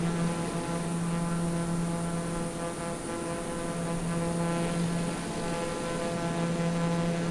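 Sikorsky helicopter in Microsoft Flight Simulator, lowering an aerial into position: a steady, loud rotor and engine drone with a low tonal hum, continuous throughout with no talking.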